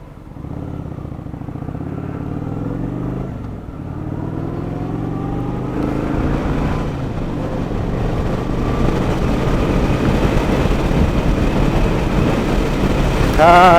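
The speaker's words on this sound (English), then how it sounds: "the wind buffeting against your chest was" Wind buffeting a rider on a Kawasaki naked 900 motorcycle, a loud continuous roar blended with engine drone that rises steadily as speed builds.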